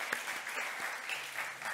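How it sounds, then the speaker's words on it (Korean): A college-ministry congregation at Onnuri Church offers a round of praise applause, a soft, steady patter of many hands heard from some distance. "우리 영광 받으실 하나님께 큰 감사와 찬양의 박수를 한번 올려드리겠습니다"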